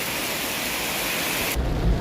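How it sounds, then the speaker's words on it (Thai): Dense, steady hiss of heavy rainfall pours continuously, then cuts to a duller low rumble near the end. "น้ำเยอะมากฝนตกแรงด้วย"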